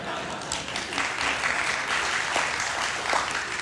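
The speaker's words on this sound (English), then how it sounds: "Yes, you can clap for that" Steady applause from a large conference audience fills the room, continuous and fairly loud throughout, with no voices standing out.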